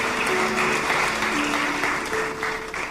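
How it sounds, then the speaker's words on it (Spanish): Congregation clapping hands together during a church service, a dense steady patter of many palms with a faint sustained tone and murmur beneath. "Dale palmas al Señor en estos momentos."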